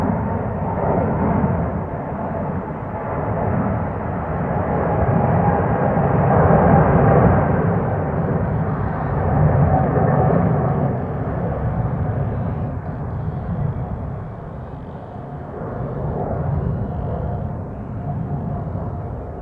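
An airliner passing at Schiphol Airport, a broad steady roar swelling to a peak midway and slowly easing off, continuous and fairly close with no talk.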